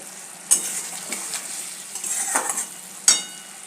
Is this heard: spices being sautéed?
yes